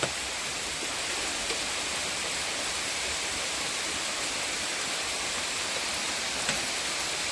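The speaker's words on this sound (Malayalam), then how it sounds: "നമുക്കിവിടെ നല്ല മഴയാണ്" Heavy rain pours down in a Kerala village, a dense, even wash of hiss that stays constant and fairly faint throughout, with no voices.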